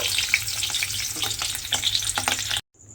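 Paneer cubes frying lightly in oil and being turned over, a dense close sizzle with scattered spatula scrapes, which cuts off abruptly at the end.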